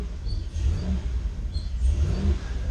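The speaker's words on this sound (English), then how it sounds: "So we'll rev this up," Boat engine revving at launch, a loud close low rumble that swells and eases in two surges, with no talk over it.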